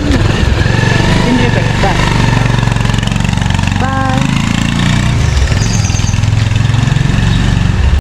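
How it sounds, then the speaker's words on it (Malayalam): A motorcycle engine runs loud and close with a steady droning idle throughout, before a child is taken to school on the bike, with voices faintly heard over it. "സ്കൂൾ വരെ ബൈക്കിൽ കൊണ്ടുപോകണം"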